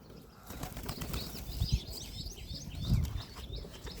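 Pigeons flap their wings in two quick, fluttering bursts close by, set against a soft background of faint chirps and rustle, with no talking.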